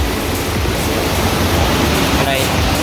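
A waterfall in Munich roars as a loud, continuous broadband rush of falling water close by, with a voice briefly audible over it.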